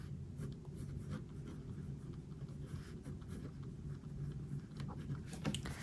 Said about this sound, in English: I'm gonna use the pink pen.